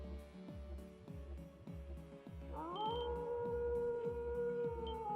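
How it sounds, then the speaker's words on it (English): Howling from creatures in the video game Trails to Azure, a long rising then sustained wavering cry entering midway over a rhythmic pulsing music loop, loud and up front. "Howling."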